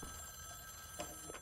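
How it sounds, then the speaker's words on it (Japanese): Telephone ringing in the shooter game Wolfenstein: The New Order, two short bursts of ring about a third of a second apart near the end, faint under a steady game background hum. "なんだ、どの電話が鳴ってんだ。"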